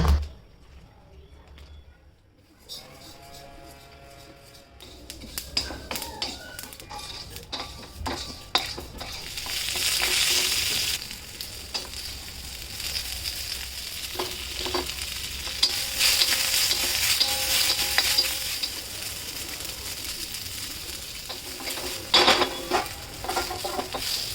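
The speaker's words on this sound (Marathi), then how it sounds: "हे सगळं तेलात चांगलं भाजून घ्यायचं." Spices, ginger and other aromatics frying in oil in a pan, a soft sizzle that swells louder as they are stirred, with scraping and clinking of a spoon against the pot, steady and close with no talking.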